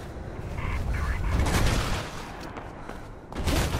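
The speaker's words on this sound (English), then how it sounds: "No, please stop shooting me, sir." Gunfire aimed at the player in Mirror's Edge, a loud sustained barrage of rapid shots and booms that swells, dips briefly, then surges again.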